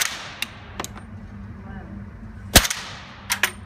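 Suppressed 300 Blackout rifle shots through a Liberty Suppressors Leonidas, heard as several sharp cracking reports, one louder shot near the middle and a closely spaced pair toward the end, over an outdoor background hum.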